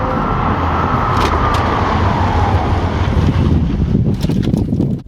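Audi RS5 and RS7 cars run hard in a braking test, giving a loud, continuous rush of engine and wind roar that eases off near the end.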